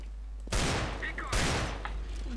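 Gunfire in Counter-Strike: Global Offensive, two loud close bursts of rapid shots about a second apart, with faint game noise between them.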